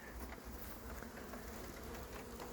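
A dense, continuous buzzing of many honeybees, steady and fairly loud, like standing right beside a busy hive during winter feeding.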